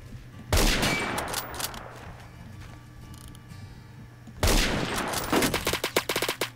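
Two loud bursts of automatic gunfire in the Roblox shooter Phantom Forces, each trailing into a quieter clatter, the second ending in a quick string of separate shots.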